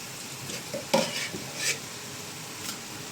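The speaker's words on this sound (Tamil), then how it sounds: "இப்போது இஞ்சி பூண்டு பேஸ்ட்டு ஒன்றரை கிலோ சேர்த்துக்கலாம்" Ginger garlic paste frying in a large pot for Chennai-style vegetable biryani, a soft continuous sizzle with a few scraping stirs of a spoon, close and moderately quiet, no voices.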